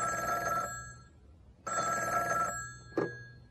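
Telephone bell ringing two long bursts with a pause between, followed by a short click as the handset is lifted, heard alone and fairly clean before a phone conversation.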